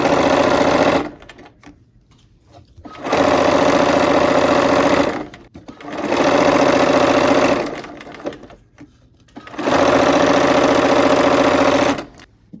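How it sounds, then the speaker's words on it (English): A sewing machine stitches quilt blocks together in four loud, steady bursts of whirring stitching, each a couple of seconds long and separated by brief quiet pauses. "Now we're going to sew these together."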